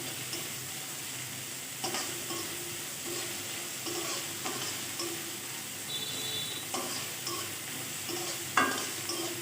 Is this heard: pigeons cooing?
no